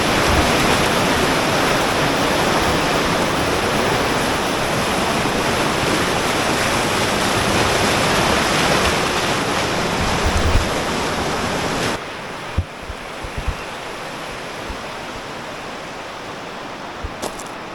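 Loud, constant roar of rushing whitewater on an Albanian river, broad and unbroken, dropping to a quieter flowing rush near the end.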